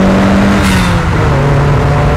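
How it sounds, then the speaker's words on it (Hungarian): A 1987 Toyota MR2 AW11 engine is pulling hard and loud up close, its note dipping as a gear changes and giving a hiss and crackle at the shift. "váltás közben ad egy ilyen sziszenő, recsenő hangot"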